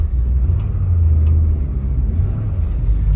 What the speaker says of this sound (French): Allez, petit test routier avec notre Mustang 65.